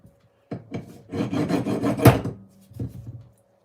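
A bastard file rasps in short strokes during an RC truck upgrade, a few separate scrapes followed by a longer rough stroke, close and moderately loud with no talking.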